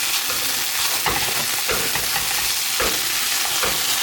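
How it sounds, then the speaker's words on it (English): Taco meat fries in a pan on high heat, with a steady loud sizzle and periodic scraping stir strokes roughly every second. "I have this cranked up because I'm frying it."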